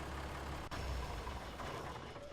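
A steady, rough tractor engine drone in Farming Simulator 19 rumbles throughout, broken by one brief click partway through.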